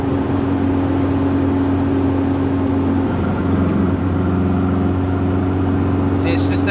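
A Volkswagen Beetle engine with carburetors needing tuning runs steadily at partial throttle, a loud, continuous droning hum close by that holds an even pitch throughout.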